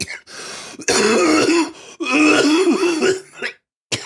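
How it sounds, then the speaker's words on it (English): A person coughs and clears their throat several times in rough, raspy bursts, close by, with brief pauses between. "I'm sorry, I coughed"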